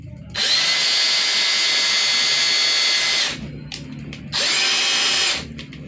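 A repaired cordless hammer drill runs in two loud, steady bursts, about three seconds and then a second and a half, with a short quiet gap between them.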